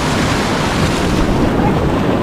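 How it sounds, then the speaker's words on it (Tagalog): Large ocean waves crash steadily on a shore during heavy weather, a loud continuous roar of surf mixed with wind buffeting the microphone, with no break in the rushing noise. "Halalaki ng alon."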